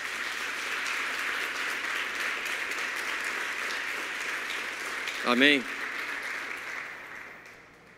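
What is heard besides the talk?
church congregation applause for Jesus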